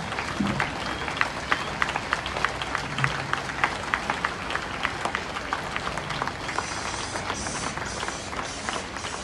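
Audience clapping for a family being honoured at a ceremony for an Asian Games tennis gold medallist in Delhi, a sustained even wash of applause at moderate distance with faint voices beneath.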